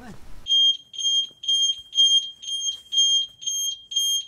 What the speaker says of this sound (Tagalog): Sabi ko, huwag buksan yung pintuan pa. Alarm, nag-alarm na kakit.